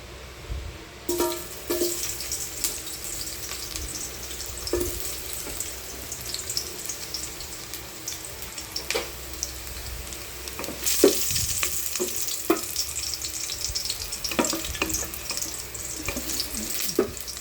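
Chopped garlic sizzles steadily in heated cooking oil in a pan while Filipino monggo with jackfruit and pork hock is being cooked, with a continuous crackling hiss and occasional clinks and stirring scrapes, no voices.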